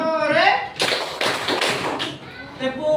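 Classroom hand clapping during a clap chant at an elementary school in Ternate, with rapid bursts of claps mixed among children's and a teacher's chanting voices in a lively, reverberant room.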